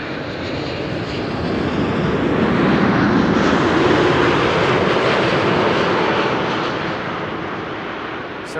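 KLM flight 751 Boeing 787-9 Dreamliner arriving from Guayaquil at Amsterdam Schiphol Airport, a loud continuous jet roar that swells to a peak and slowly eases toward the end.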